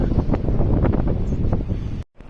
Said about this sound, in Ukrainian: Вітер є, хоч може хвилі будуть